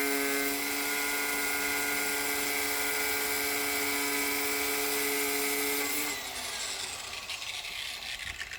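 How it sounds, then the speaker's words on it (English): A drill whines with a steady high-pitched motor tone, then shifts pitch and roughens as a 13/64 bit bites into the end of a metal eye bolt, close by with no talking. "I'm gonna drill a hole in the end"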